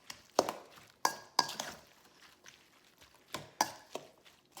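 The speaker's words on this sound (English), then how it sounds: "Give this a little mix." Food being stirred in a pan with corn and salt, a series of sharp clinks and scrapes in uneven rhythm, close and fairly quiet with soft sizzling between the strikes.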